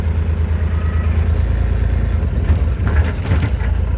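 A JCB 8035 mini excavator's diesel engine runs steadily at raised throttle, a loud close low rumble with faint mechanical clatter throughout.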